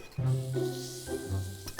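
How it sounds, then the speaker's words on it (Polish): Meat sizzles in a hot pan, a soft crackling hiss under a brief clink of utensils. "Mięso ląduje na patelni."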